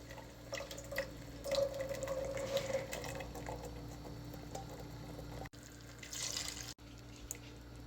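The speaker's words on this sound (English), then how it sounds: "once this can is empty, I'm gonna fill the same can with water" Tap water runs steadily into an empty tomato sauce can while rice and beans are being cooked, a continuous filling splash with brief dips in level, with no talking.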